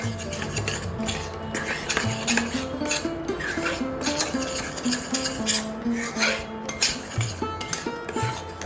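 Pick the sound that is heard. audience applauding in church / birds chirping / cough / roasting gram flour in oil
roasting gram flour in oil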